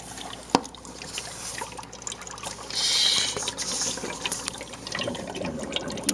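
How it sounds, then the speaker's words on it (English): Water bubbles and fizzes up close as dry ice sits in it, a steady gurgling hiss with occasional pops and a brief surge of frothing. "So you can see it down there bubbling up."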